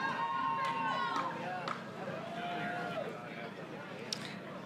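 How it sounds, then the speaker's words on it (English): A crowd at the Western States endurance run finish line cheers a runner in, with scattered whoops and chatter at a moderate distance. An announcer's voice runs over the cheering throughout. "hear Miguel's crew and everyone cheering him in"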